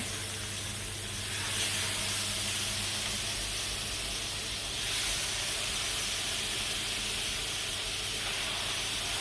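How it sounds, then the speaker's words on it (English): Chicken thighs laid top side down in a hot pan sizzle with a steady, loud hiss that swells in two surges as more pieces go in, then holds a constant crackling spatter throughout. "So I'm going to put my thighs in top side down, just so that they get a nice colour."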